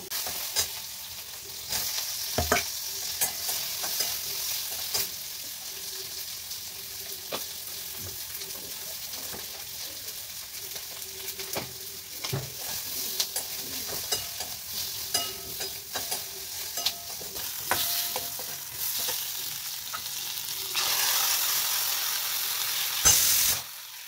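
Poppy seed paste (posto) cooks in a pan with a long, steady frying sizzle. Scattered scrapes and taps from stirring break it up, and it gets louder near the end.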